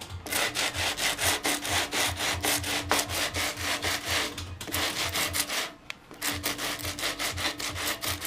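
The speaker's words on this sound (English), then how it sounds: "what I'm doing here is just cleaning up the rust that's left over" Rust and loose paint are scrubbed off a metal arcade cabinet with rapid, rhythmic back-and-forth abrasive strokes, close and steady, with a couple of brief pauses between bouts of rubbing.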